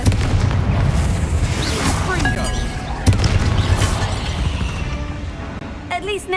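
Booming Confringo spell explosions from the Hogwarts Legacy video game erupt in a crypt-like tomb, with a heavy blast at the start and another midway amid rumbling chaos, and a voice speaking near the end.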